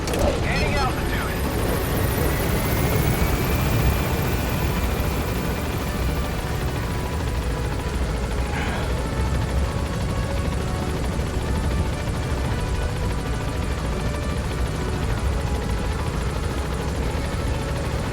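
Helicopter gaining altitude in the video game Metal Gear Solid V, a steady loud rotor drone and engine whine that holds constant throughout, with speech over it.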